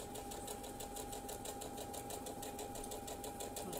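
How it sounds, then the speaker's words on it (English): Close, steady rhythmic whir of a sewing machine stitching down one side of a patchwork labyrinth quilt block, running continuously without pause or talk. "I'm just going to stitch down this one side"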